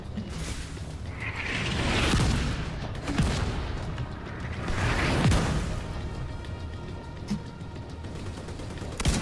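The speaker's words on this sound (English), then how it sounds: "Mortars on this location, ASAP." Mortar strike explosions in The Division 2, a series of heavy booms and crackling gunfire swelling in waves over a rumbling battlefield, with scattered sharper blasts.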